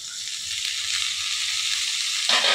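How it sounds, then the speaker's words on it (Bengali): Vegetables fry for pasta with a steady, close hiss of sizzling oil. Near the end a sudden louder sizzle flares up, as when chopped tomato hits the pan. "তো এবার আমি টমেটো কুচি দিয়ে দেবো এর মধ্যে"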